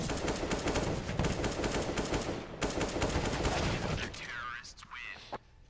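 Rapid rifle fire in Counter-Strike on the Mirage map, a fast dense burst of shots rattling for about four seconds before fading, with commentators speaking over it.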